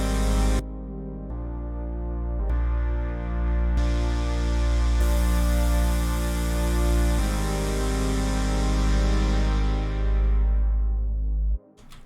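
Synth plucks and chords swell as filters open, adding brightness over a deep sustained bass and soft reverb tails, then the sound cuts off sharply near the end.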